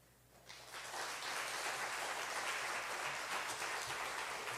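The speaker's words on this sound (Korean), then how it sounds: "나오실 때 큰 박수로 환영하겠습니다" A church congregation breaks into loud applause to welcome the pastor, the clapping swelling up quickly from quiet and holding as a dense, sustained roar of hands.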